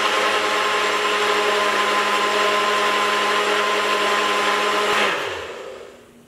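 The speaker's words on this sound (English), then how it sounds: "So I'm just gonna whiz that up." A blender whirs steadily as it mixes matcha bulletproof coffee with ghee and collagen powder. The loud, even motor drone runs for about five seconds, then winds down and fades out.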